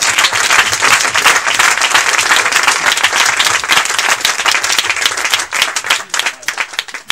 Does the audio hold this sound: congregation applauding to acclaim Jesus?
yes